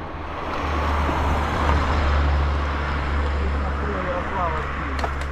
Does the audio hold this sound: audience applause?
no